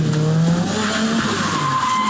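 Car drifting through a figure-eight with tires squealing steadily and the engine droning loud and close throughout, no talk.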